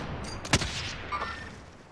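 A single sharp gunshot rings out in Call of Duty Warzone, standing alone against steady game ambience, followed by a fainter second report shortly after.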